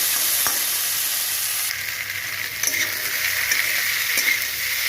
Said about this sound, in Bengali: কপিটা এখন ভালো করে ভেজে নিই